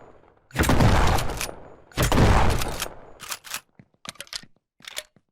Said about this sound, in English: This is like a auto pump shotgun or something like that.